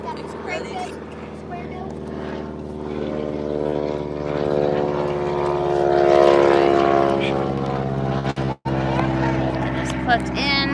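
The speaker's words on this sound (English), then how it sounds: "That's one of those seaplanes." A propeller seaplane passes over a lake, its droning engine swelling louder toward the middle and then easing off, while people nearby talk over it throughout.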